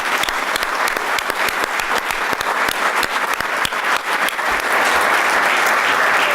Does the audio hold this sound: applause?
yes